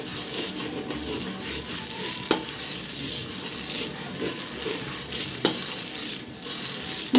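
Garlic fries in a pan with a soft, continuous sizzle and crackle, broken by a few sharp utensil clinks against the pan.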